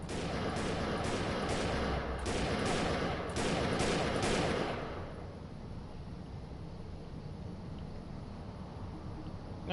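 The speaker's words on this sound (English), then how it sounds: "We'll load up a shotgun. And a submachine gun." Rapid shotgun and submachine gun fire from the video game Defiance, with a string of sharp, evenly spaced shots for several seconds that then stop, leaving a quieter background hum.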